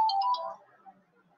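A phone ringtone gives a short electronic chime, a few bright tones in quick succession that fade within a second, heard during a spoken lesson on nutrition.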